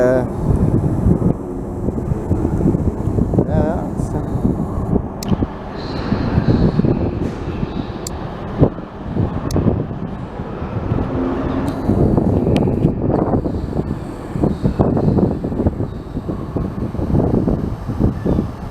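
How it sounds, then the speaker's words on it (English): Open station platform ambience at Bristol Temple Meads, with a low, steady rumble, some wind, and a few distant clanks and announcements echoing across the space. "this is a train station"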